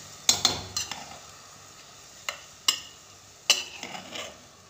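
Rice and peas stirred in a pressure cooker: a few sharp metallic scrapes and clinks of a spoon against the pot, spaced irregularly over a quiet background, close and alone.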